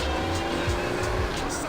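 Car tyres squealing in Grand Theft Auto San Andreas as a car drifts, a steady loud screech over engine roar lasting the whole moment, with no talking.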